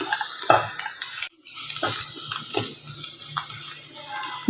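Cooked rice stirred into a coconut mixture in a pan with the heat off, scattered scraping and clinks of a spoon against metal, irregular and moderately close, with a brief gap of silence.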